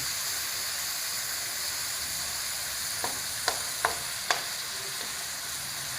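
Yard-long beans stir-fried in a pan for a spicy offal basil stir-fry, an even, fairly faint sizzle throughout with four brief spatula knocks near the end, no voices.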